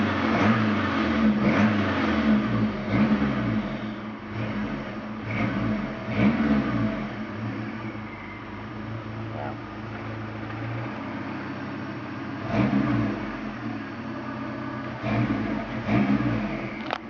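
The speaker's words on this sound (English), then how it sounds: "Let's hear some of this cool exhaust." A turbocharged 2.3-liter Ford Mustang engine is revved repeatedly through its exhaust, rising and falling bursts over a rumbling idle, close by and loud, with no talking.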